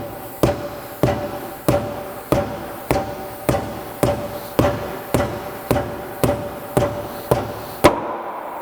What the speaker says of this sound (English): I get the hammer out and hope for the best